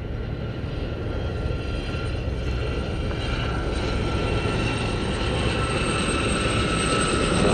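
Gazelle helicopters flying in tight formation at the Cosford airshow give off a continuous, loud, broadband rotor and engine roar that holds steady throughout, with no voices.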